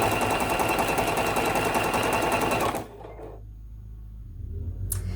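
A sewing machine stitches around a quilt block circle, running loud and close at a rapid, steady hum for nearly three seconds before it stops, leaving only a faint low hum.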